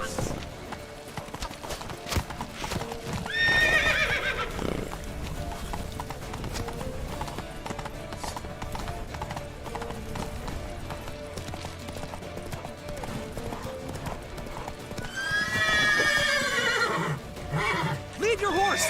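Hooves clip-clop steadily while a horse neighs loudly twice, near and distinct, with voices talking over the busy, continuous background, in the video game The Witcher 3.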